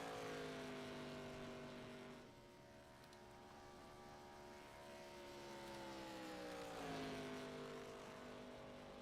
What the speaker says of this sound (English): We're going to ride along with Michael Hurley here in this number 32 Ford Mustang as he starts his first lap here.